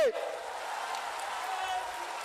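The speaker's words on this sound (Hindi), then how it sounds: "जोर से ताली बजाओ सुमना के लिए" A crowd at an outdoor political rally in Balagarh, Hooghly claps in a dense, steady wash of applause that carries on for a couple of seconds.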